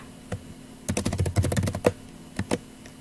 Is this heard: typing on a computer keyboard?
yes